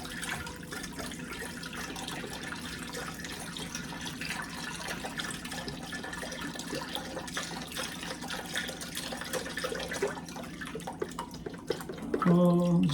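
Chicken broth pours into a cooking pot in a steady, soft liquid stream lasting several seconds, ending with a brief knock.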